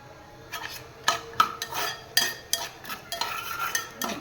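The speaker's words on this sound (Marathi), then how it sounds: "हे बघा, शेंगदाणे आता फुटायला लागले, आवाज करतात मस्त" Peanuts roasting in a pan for varai (barnyard millet) upma, giving irregular sharp crackles and pops with light scraping of a spoon against the metal, close and fairly quiet, with no talking.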